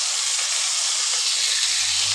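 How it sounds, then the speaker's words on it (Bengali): Vegetables frying with salt in a pan produce a steady, close, bright hiss of sizzling and steam that holds evenly throughout, with no talking. "এবার আমি এগুলোকে ভাজা করে নেব ভালো করে।"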